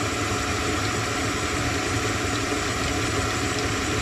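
An electric mixer runs at full speed, giving a loud, steady, unbroken whirring drone throughout with no talking.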